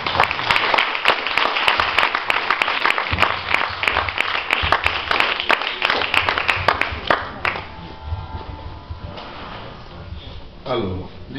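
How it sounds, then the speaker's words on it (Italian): Applause from an audience at a gathering, many hands clapping loudly for about seven seconds before fading out, followed by voices talking. "di fare un grande applauso"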